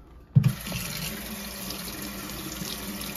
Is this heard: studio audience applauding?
no